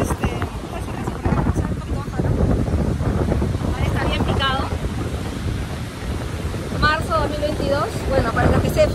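Strong wind buffeting the microphone on a beach, a continuous loud rumble with surf beneath and a voice speaking through it.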